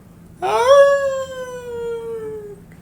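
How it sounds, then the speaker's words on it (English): A dog gives a single drawn-out, mournful howl that rises sharply and then slides slowly downward, loud and fairly close against a quiet background with no talk. "A dog, which had lain concealed till now, ran backwards and forwards on the parapet with a dismal howl"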